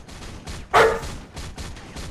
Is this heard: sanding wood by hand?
no